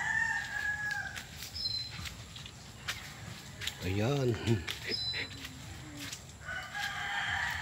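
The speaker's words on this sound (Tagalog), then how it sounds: "Yan, tumitilaok na." A rooster on a farm lot in Lopez, Quezon crows once at moderate distance, its rising and falling call standing out over outdoor ambience, with other birds chirping and a person speaking nearby.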